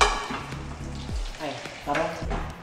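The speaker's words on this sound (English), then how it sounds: "Well, Don is cooking the ham." Ham sizzles and crackles in a hot pan, with faint background voices and some clattering.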